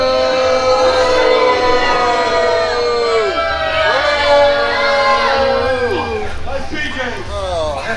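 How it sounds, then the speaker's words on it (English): Wrestling crowd at a live show jeering and shouting loudly, a sustained roar of many voices with rising and falling wails and whoops filling the arena. "I'm a little confused with what you're all booing about."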